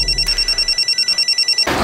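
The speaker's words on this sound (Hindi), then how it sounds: "तेजस्विनी फोन नहीं उठा रही है" A telephone rings unanswered in a rapid, steady electronic trill of repeated pulses, loud and close, cut off abruptly near the end.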